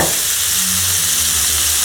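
Loud, steady hiss of squid sizzling in a hot frying pan, continuous and close.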